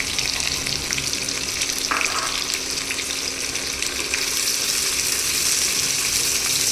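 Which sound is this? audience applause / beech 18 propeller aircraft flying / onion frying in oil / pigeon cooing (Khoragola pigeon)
onion frying in oil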